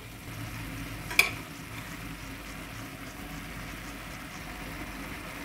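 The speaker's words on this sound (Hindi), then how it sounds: "दो से 3 मिनट तक हम इसे फ्राई करेंगे।" Green onions and vegetables stir-fry at medium heat in a pan, giving a faint, steady sizzle with one sharp utensil clink early on and no voices.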